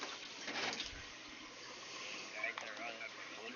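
Water running and splashing into a container as it fills, a steady faint gushing with a few bubbling shifts, while someone talks over it.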